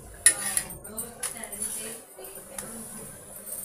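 A metal utensil clinks and scrapes against a pan while flipping a chapati on the stove, several light taps spread across the clip with a voice talking over them.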